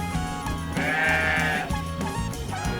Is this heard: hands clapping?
no